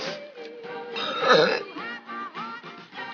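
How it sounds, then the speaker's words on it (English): A girl lets out a drawn-out, throaty burp that rises and falls in pitch, close and fairly loud, breaking into several shorter croaking pulses toward the end. "There's your burp."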